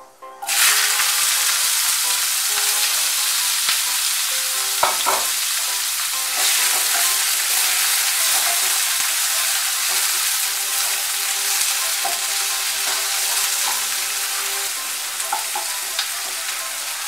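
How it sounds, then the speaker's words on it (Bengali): Bitter gourd fries in hot oil with dry red chillies and fenugreek seeds, producing a loud, steady, close sizzle that continues unbroken throughout, with occasional faint clinks of stirring. "করলাটা একটু ভেজে নেব।"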